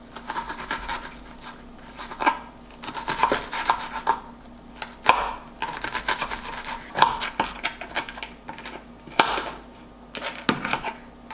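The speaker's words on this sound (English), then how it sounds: "Gosh, cutting tomatoes is so hard" A knife chops small Roma tomatoes on a cutting board, producing a run of close, irregular tapping cuts with soft scraping between them. No one speaks.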